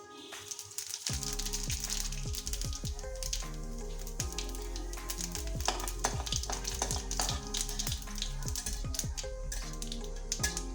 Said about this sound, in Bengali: তেলটা গরম হয়ে গেছে, এবার ফোড়নে দেব সাদা জিরে।